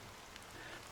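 Fine black rain drizzles steadily in Honkai: Star Rail, a soft continuous hiss of drops on a surface, faint and even throughout with no voices.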